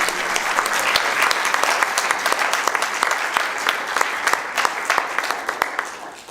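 Sustained applause from a conference audience at a cannabis talk, dense clapping filling the room at steady volume for several seconds.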